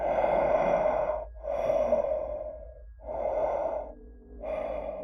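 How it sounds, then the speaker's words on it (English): Heavy, hoarse panting from a man, four long ragged breaths in a steady in-and-out rhythm, close and loud with no talk over it. "The hoarse, deep panting was getting closer and closer to me"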